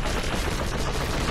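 Gunfire in the first-person shooter Doom Eternal: a dense, unbroken barrage of loud shots and blasts fills the whole stretch, heavy and continuous with no pauses.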